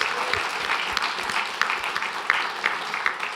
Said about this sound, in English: Can we actually get an applause for 215 and Dennis Perone and what that did for all